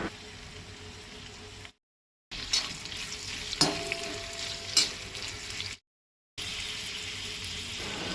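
A large vertically sliced onion fries in about four spoons of oil on a griddle, a soft, fairly faint sizzle with occasional stirring clicks, broken by two short gaps of silence.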